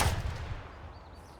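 A single gunshot in the video game Escape From Tarkov, a sharp close blast at the start that decays into a short echoing tail, heard alone.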